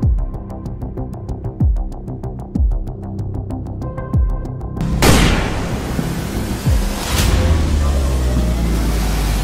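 A gunshot in a mafia drama game, a single sharp broadband blast about midway, loud and close, following a run of soft repeated thumps and a steady rhythmic tone, with a second fainter crack soon after.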